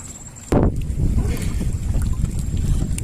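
Wind buffeting the microphone in low rumbling gusts, with a sharp thump near the start and water-like noise underneath, fairly loud and continuous.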